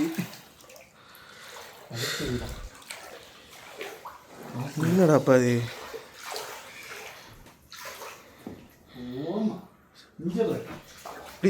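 Floodwater sloshing and splashing through a flooded home, with water moving around household items like a gas cylinder and fan, heard near and continuous beneath excited voices talking throughout.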